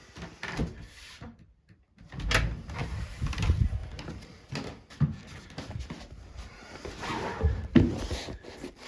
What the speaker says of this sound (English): if I drop that door down